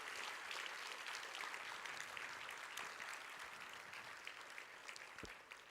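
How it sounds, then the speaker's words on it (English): Faint, distant applause from a conference audience at a social business day event, a continuous, even patter of many hands that slowly tapers, with a single low thump near the end. "if we can give him a big round of applause"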